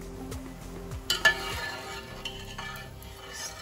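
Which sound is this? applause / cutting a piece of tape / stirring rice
stirring rice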